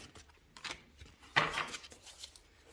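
Tarot cards being shuffled by hand, a faint close run of soft riffling flicks and taps with one brighter burst in the middle, heard alone.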